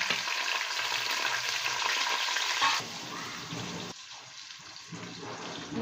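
Chicken goes into a pot of frying onions for yakhni pulao, bringing a loud, close, steady sizzle that drops in intensity partway through and continues more quietly with stirring.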